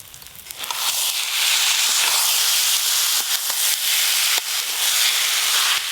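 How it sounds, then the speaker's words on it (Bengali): Rice, dal and spices sizzle in hot ghee while being sautéed for Saraswati Puja khichuri, a steady loud hiss with scattered crackles and pops that swells after the first second and continues to the end. "মশলার সঙ্গে চাল দিয়ে একটু ভালো করে কষে নিয়েছি"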